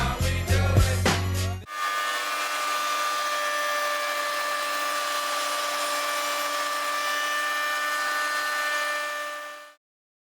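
Router on a router table cutting the second edge of a dovetail slot in wood, a steady high-pitched whining hum that holds for about eight seconds after brief clattering at the start, then cuts off abruptly.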